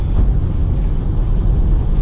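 A 2005 Toyota Highlander's V6 with a 4-speed automatic hums steadily from inside the cabin on a test drive, a loud, even low rumble of engine and road noise with no talking.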